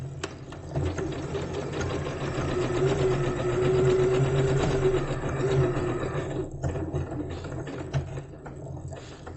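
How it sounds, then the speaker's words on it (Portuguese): A sewing machine stitches quilt fabric in a close, continuous mechanical hum with a rapid rhythmic needle chatter. The sound holds steady for several seconds before easing off near the end. "abaixa a agulha e vamos costurar exatamente até terminar o outro, onde cruza esse risco."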